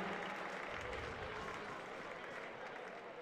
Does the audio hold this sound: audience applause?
yes